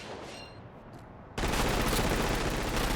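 Dense, sustained automatic gunfire from shooting enemies in the open-world action game Crackdown 2 erupts abruptly after a quieter stretch and stays loud and continuous to the end, with no speech.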